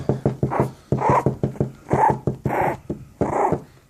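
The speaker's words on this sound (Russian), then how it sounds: "С ней разговаривать, она ну, тявкает." A small dog yaps and growls in a rapid run of short, sharp barks with rough growling between them, close and loud, with no voices.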